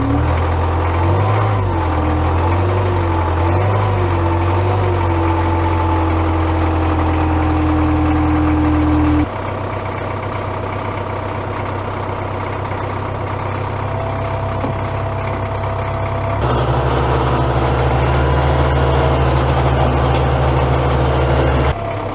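A Caterpillar loader's diesel engine idles steadily with low fuel pressure at idle, a continuous low rumble with a wavering tone early on and a shift in pitch partway through, no voices.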